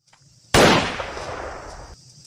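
A single loud gunshot cracks close by in a film scene about Indonesian Independence Day in Sunda, a sharp burst followed by a rumbling tail that fades over about a second and a half.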